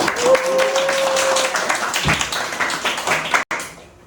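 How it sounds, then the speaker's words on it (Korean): An audience at a school admission briefing claps loudly and briskly, a dense close patter of hands with a short whistle-like tone at the start, ending abruptly. "박수."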